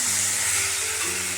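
Spice paste and tomatoes sautéing in a pan for a Bengali tilapia and bata fish curry, giving a brief, even sizzle and hiss close by.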